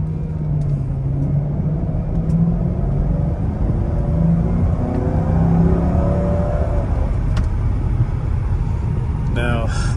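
A Mercedes-Benz SL500 fitted with Neomax coilovers pulls away from a takeoff with a steady engine rumble. Someone talks over it throughout, and the sound stays close and fairly loud.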